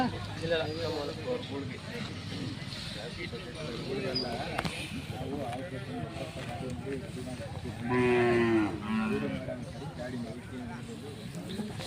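Cattle moo at the Jodugatte cattle fair of 2025, several low, drawn-out calls, one loud and close near the end, heard beneath people talking over a busy crowd.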